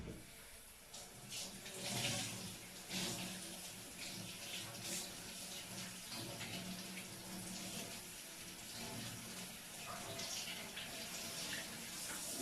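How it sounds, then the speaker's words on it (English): Tap water running steadily into a sink while baby wipes are rinsed out, a continuous close splashing rush that shifts a little as hands move through the flow. "just a few minutes so I can rinse out my baby wipes"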